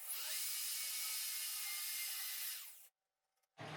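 A power drill with a small 3.5 mm bit bores a pilot hole during a DIY bathroom vanity and sink installation, giving a loud, steady high whine that stops abruptly and then briefly restarts.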